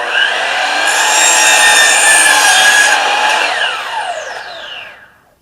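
A power saw cuts through wooden boards for a backyard potter's bench, a loud, close whining rasp that holds steady for several seconds, then pitches down and fades as the cut finishes.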